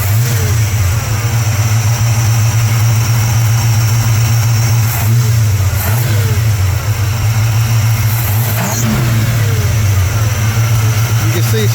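Chevy V8 running a Summit Racing ignition box and new coil, loud and close, idling roughly then blipped through several quick revs, a continuous heavy engine rumble with a voice briefly over it.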